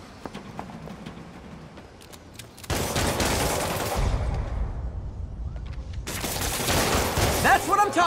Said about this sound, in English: Gunshot coming!